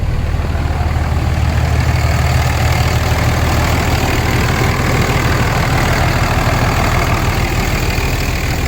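A Dodge Cummins diesel truck engine idles loud and close with its exhaust cut off, a steady rumbling drone that holds without change and carries no talk.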